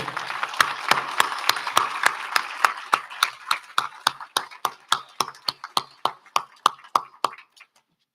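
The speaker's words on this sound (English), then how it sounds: "can we give a rousing applause to our panel?" An audience at a Martin Luther King Jr. celebration claps for a panel, dense applause at first that thins into a few evenly spaced, sharp single claps fading out near the end.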